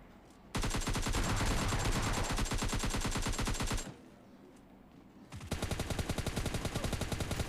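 Rapid bursts of automatic gunfire from an M416 in PUBG Mobile Lite, a loud sustained volley, a brief pause, then another dense stream of shots.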